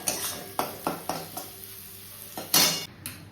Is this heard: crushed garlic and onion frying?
yes